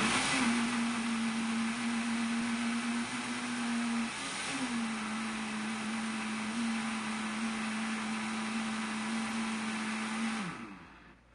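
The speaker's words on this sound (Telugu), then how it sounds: "ఇప్పుడు ఈ మిక్సీ జార్లో చల్లారిన టొమాటోల మిశ్రమాన్ని కూడా వేసి గ్రైండ్ చేసుకోవాలి" A mixer grinder whirs steadily as it grinds a cooled tomato mixture, with a brief dip in motor pitch midway before winding down at the end.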